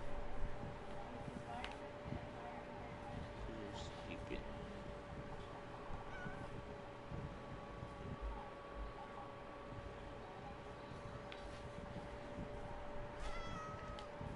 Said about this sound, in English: this cat hangs out around the house